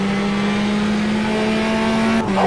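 Race car engine in the Automobilista sim, a Formula Trainer at Oulton Park, droning at a steady high pitch as it runs alongside on the left, then dropping in tone near the end as it passes.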